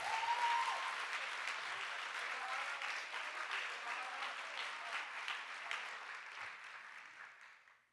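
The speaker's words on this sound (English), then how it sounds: "Can we get a round of applause for these 4 outstanding students?" Applause for students at an awards event, a quiet, somewhat distant audience clapping steadily for several seconds before gradually dying away.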